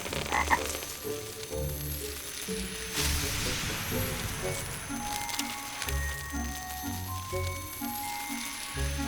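Deep, repeated croaks of a giant toad in the video game Wonderbook: Book of Spells, loud and rhythmic, with game music layered over them throughout.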